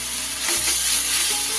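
Onion paste ground with green chillies fries in oil for a fish curry, giving a steady, close, crackling sizzle with a soft stirring scrape, and no voices.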